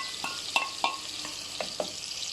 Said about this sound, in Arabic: هسيبها بقى اشوحها شويه لحد ما تصفر